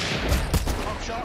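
A gunshot in a video game: one sharp, heavy blast in the middle of a short stretch of loud, rumbling background noise.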